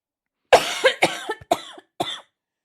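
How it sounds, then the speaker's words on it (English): A close, loud fit of coughing: five harsh coughs in quick succession, then silence. "Hopefully that cough did not come through on the recording."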